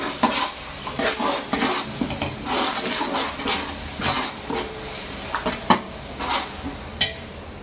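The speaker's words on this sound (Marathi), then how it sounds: "हिरवी मिरचीला पण आपण चांगल्यापैकी परतून घेऊ" Garlic, onion and green chillies sautéing in a pan for veg pulao, a constant sizzle with repeated spatula scrapes and clinks against the pan, close and fairly loud, no talking.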